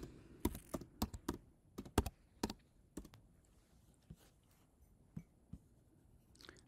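Brisk keystrokes on a computer keyboard, a quick run of close, crisp clicks slowing into a few scattered taps.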